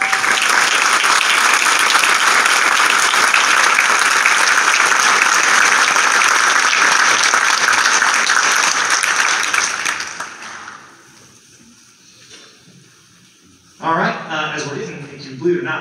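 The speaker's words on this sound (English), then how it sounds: "please give a round of applause to letter recipient Emma Forney." An audience at a school wind symphony concert gives loud, sustained applause that fades away after about ten seconds, then a voice speaks.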